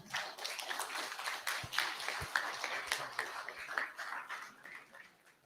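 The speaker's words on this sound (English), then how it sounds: "So let's give a big round of applause for Dani." An audience at a Chennai React meetup claps for a speaker: a dense, even patter of many hands, moderately close, that swells and then tapers off at the end.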